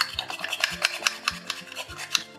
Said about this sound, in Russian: На мелкой терке натру зубчик чеснока.